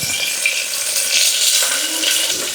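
Small chopped tomato tempered in hot oil, a steady bright sizzle and crackle of frying that holds for a couple of seconds, close and fairly loud with no talk over it.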